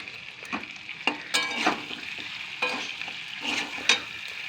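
Chicken pieces and potatoes frying in hot oil, a steady sizzle broken by several close scraping stirs of a spoon against the pan, no talking.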